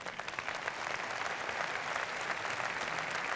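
Audience applause at the opening of the Salesforce World Tour Paris, a continuous dense wash of many hands clapping from a large crowd, steady and moderately distant.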